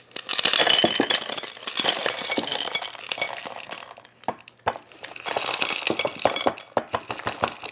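Small rocks poured into an indoor water feature, rattling and clinking in dense bursts with brief pauses, close and fairly loud with no talk.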